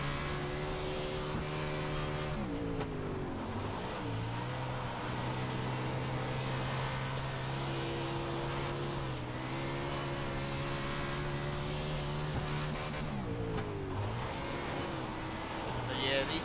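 Non-wing 410 sprint car engine in iRacing, a steady high-pitched drone that rises and falls in revs around laps, loud and continuous under a talking voice.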